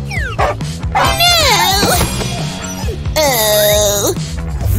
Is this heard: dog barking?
yes